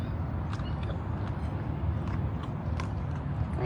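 A big cat at a rescue sanctuary chews a crunchy potato, with repeated close crunching bites and rough gnawing over steady background noise and occasional faint voices.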